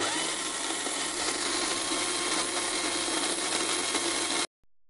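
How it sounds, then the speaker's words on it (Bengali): A kitchen mixer grinder blends green chillies, garlic, tomato and capsicum, a loud, steady whirring motor roar that runs unbroken for over four seconds and then cuts off abruptly. "দুটো কাঁচা লঙ্কা, 4 কোয়া রসুন, একটা টমেটো তার হাফ নিয়েছি, আর হচ্ছে একটা ছোট ক্যাপসিকাম নিয়েছি। এবার একসঙ্গে মিক্সিতে বেটে নেব।"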